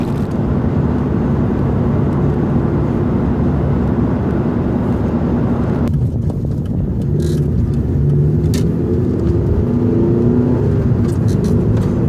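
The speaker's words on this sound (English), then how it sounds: "you put your foot down, it'll take off. It's no slouch. So it'll pick up speed pretty quick." A 2008 Mitsubishi Eclipse engine pulls hard under acceleration with a steady, loud, continuous roar and low rumble throughout, shifting character about halfway through as the drive continues, with no talking.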